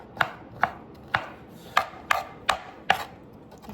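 A knife chops portobello mushrooms on a cutting board with seven crisp, close strikes at an uneven pace, alone, with no talking.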